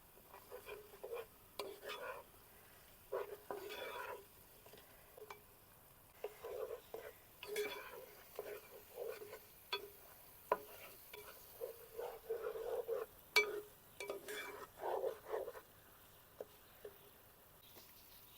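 Chopped green chillies and curry leaves sauté in a pan for gooseberry pickle, heard as quiet, intermittent scraping stirs and soft crackles in short bursts over a near-silent background.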